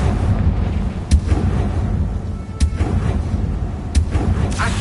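Spell blasts from the Confringo fire spell in the Hogwarts Legacy video game, several sharp booming bursts over a dense rumbling game soundscape, loud and close.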